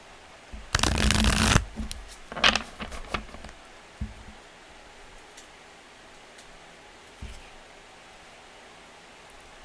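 Messages of Love Oracle cards shuffled by hand, a loud riffling burst followed by a few softer card flicks and taps, then near quiet.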